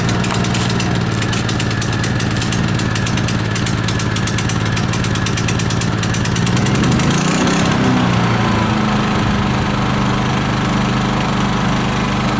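Champion 73001I-E 3.5 kW inverter generator starts and runs, its loud close engine settling into a steady buzzing drone with a brief pitch dip partway through.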